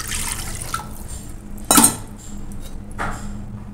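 Water is poured and splashes into a metal pot while modak are being cooked, a steady liquid wash with a brief louder clatter and splash in the middle, no talking.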